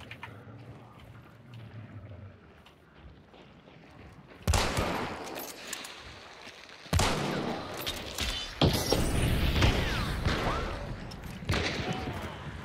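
Gunfire from the video game Hunt: Showdown, a few sharp shots followed by sustained loud bursts in the second half, with players talking over the action.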